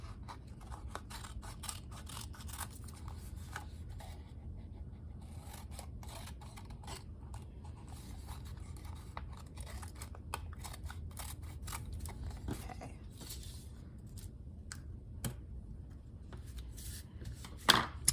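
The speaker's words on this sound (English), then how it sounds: "We're gonna cut off all of the excess brown paper." Scissors cutting away excess brown paper for a popsicle-stick gingerbread house craft, a long run of quiet, irregular snips and paper rustles over a low steady background, with a sharper snap near the end.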